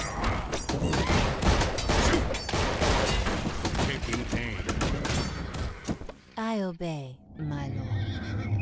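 Gunfire crackles in the Battle Realms strategy game as a dense, rapid volley of sharp shots, followed by a horse whinnying near the end, with game voices mixed in.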